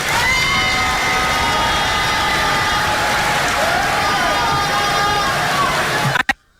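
Large crowd applauding and cheering at a Ghanaian political gathering after a chairman's speech, a dense steady roar of clapping and shouting that runs unbroken and then cuts off abruptly at the end.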